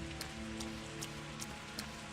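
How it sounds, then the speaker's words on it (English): Rain falling in the video game Pathologic 2, a soft steady patter on surfaces with a few brief splashy drops, quiet and without any voices. "It's raining."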